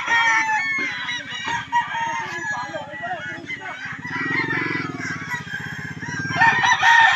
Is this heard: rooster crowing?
yes